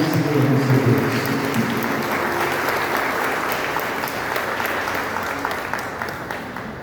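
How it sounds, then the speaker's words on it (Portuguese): A church congregation at a communion service applauds to welcome the pastor, producing a dense, steady wash of clapping from many hands that fades slightly toward the end, with faint voices underneath. "Vamos receber o nosso pastor aplaudindo e glorificando o Senhor nosso Deus."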